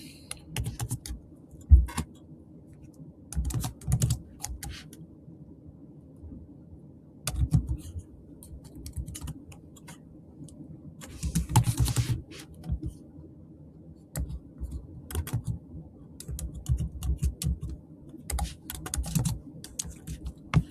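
Code is being typed on a computer keyboard in bursts of quick key clicks separated by pauses, close and fairly loud, with no talking.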